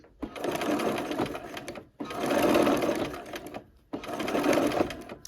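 Sewing machine stitching quilt fabric for a block-of-the-month quilt, running in three steady bursts of rapid stitching with brief pauses between them where the needle stops for pivoting.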